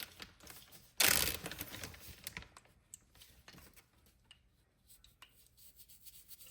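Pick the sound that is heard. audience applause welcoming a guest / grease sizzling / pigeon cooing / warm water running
grease sizzling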